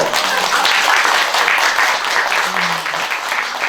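Listeners at a Buddhist temple dharma talk break into steady, dense applause, a continuous wash of clapping that stays loud and even for a few seconds.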